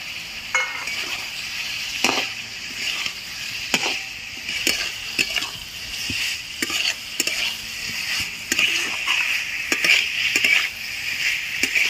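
Fried potatoes and pointed gourd being stirred into oily spice paste in a hot pan, a steady sizzle broken by repeated scraping and clinking strokes of the spoon, close and alone without talk.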